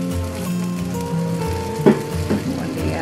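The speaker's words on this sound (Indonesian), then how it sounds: "Masak dengan minyak sedikit" Food frying in a little oil in a home kitchen, giving a steady, soft sizzle that runs the whole time, with a couple of brief louder crackles partway through.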